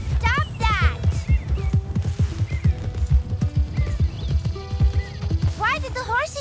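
Horse hooves clip-clop at a steady walking pace in Red Dead Redemption 2, running beneath ongoing character dialogue with a brief whinny-like call near the start and end.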